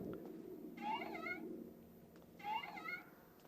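Two clear, drawn-out cat meows sound about a second and a half apart inside a horror video game, set over a low, steady ambient hum.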